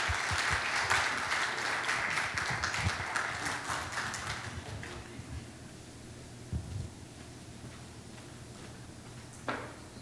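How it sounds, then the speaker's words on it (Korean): Lively clapping from a seminar audience welcoming a speaker fills the first few seconds, then thins out and fades to scattered claps and room noise. "이 시간 나오실 때 크게 환영의 박수로 환영해 주시겠습니다."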